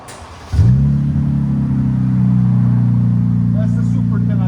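A 2025 RAM 1500 with a 3.0L Hurricane inline-six and Flowmaster Super 10 exhaust starts up with a sudden loud burst, then settles into a deep steady idle rumble that swells slightly when revved, with brief talk in the background.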